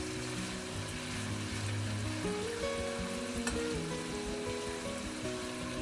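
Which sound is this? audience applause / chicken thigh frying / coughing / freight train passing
chicken thigh frying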